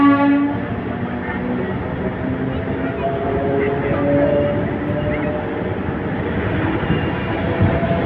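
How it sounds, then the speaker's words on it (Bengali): A passenger train pulls out of a station at Malbazar, giving a steady rumbling rail noise with a horn-like tone at the start and a constant low drone. "তো ওই যে ট্রেন ছেড়ে দিচ্ছে"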